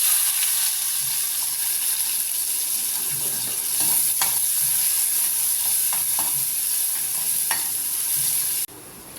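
Chopped onions sizzle steadily in hot oil, a loud continuous frying hiss with occasional stirring scrapes, stopping abruptly near the end.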